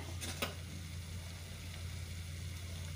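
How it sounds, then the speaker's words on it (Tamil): Oil sizzles steadily in a pan with a constant hiss, a couple of short scraping clinks near the start and a low hum underneath. "இப்போ இது நம்ம வதக்கிறதுக்கு விட்டுருக்கோம்"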